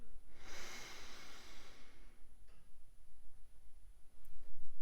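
One long, deep breath is drawn in close to the microphone as part of a paced breathing exercise, a loud airy rush that fades after about a second and a half into quiet breathing.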